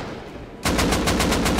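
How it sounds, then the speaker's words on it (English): Explosive bullets fire in the Rust video game as a rapid, evenly spaced volley of loud shots that starts abruptly after a quieter moment. "That's explosive bullets."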